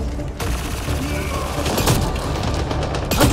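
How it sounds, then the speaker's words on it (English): Gunfire in the game Mass Effect Andromeda, a dense, rumbling barrage of shots and booms with a few sharper blasts standing out, continuous and loud throughout. "I can take a shotgun blast to the face and live."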